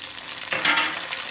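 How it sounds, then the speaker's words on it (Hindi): Cumin, mustard seeds and curry leaves dropped into hot oil for a Hyderabadi bagara baingan tempering, giving a short burst of crackling sizzle that swells midway and then settles to a steady hiss. "साथ ही ऐड करेंगे राई दाना, साथ ही ऐड कर देंगे कड़ी पत्ता।"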